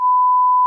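A single steady electronic censor beep, a pure loud tone lasting under a second with abrupt start and stop, used to bleep out a name in conversation.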